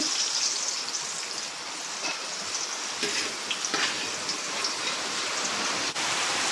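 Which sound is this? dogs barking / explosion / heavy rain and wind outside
heavy rain and wind outside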